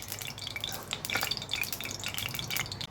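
Mustard oil trickles from a favourite pouring bottle into a pan with soft drips and a light sizzling hiss, close and quiet, no talking.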